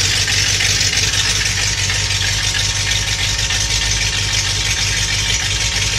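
A 1988 Ford Bronco engine at warm-up idle near 900 rpm, a steady, loud, low rumble with an even rhythmic chug and no voices.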